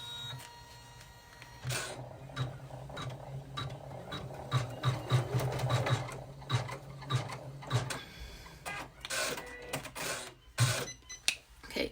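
A home embroidery machine stitches a digitized pattern, its needle chattering in a steady, fast mechanical rhythm with louder clacks now and then, close by and alone.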